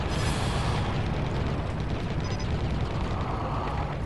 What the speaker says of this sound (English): Guess I might just take it out with damn chain gun already.